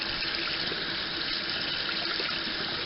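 Tap water runs steadily over a makeup brush and a bar of Ivory soap, making a constant close rushing splash that carries through without talking.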